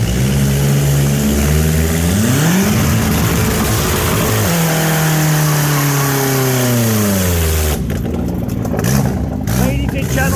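A Kia Spectra with an open exhaust, hood up, is revved hard in neutral: a loud, raw engine climbs and falls through several long rev sweeps, settling between pulls, with a brief crackling lull near the end.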